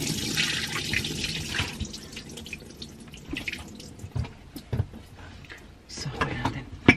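Rice is rinsed by hand in water at a kitchen sink, with tap water running and irregular splashing and swishing over about seven seconds.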